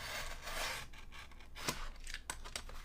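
Safety knife slicing through the packaging of a Defender XT Pro phone case for a Galaxy S25 Ultra, heard as soft close scraping and rasping strokes with a few sharper cuts, no talking.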